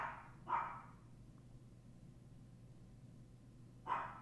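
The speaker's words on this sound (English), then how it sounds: "Now, I don't know what my dog's barking at." A dog barks indoors. Two sharp, fairly distant barks are separated by a few seconds of quiet room hum.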